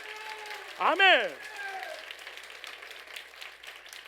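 A church congregation at a Sunday morning worship service breaks into applause for the Lord, a broad crowd clapping that carries on steadily after a voice speaks briefly at the start.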